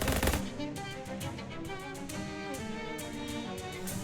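Gunshots in the video game Shadows over Loathing: a sharp loud blast at the start, then a rapid run of repeated shots with ringing tails, fairly faint overall.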